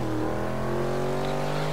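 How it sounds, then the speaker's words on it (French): Steady engine drone of a car in Forza Horizon 3, running at high speed with a sustained, slightly rising tone, loud and continuous with no talk. "Quand on entend le bruit du moteur dans le micro, là il est au moins à 200."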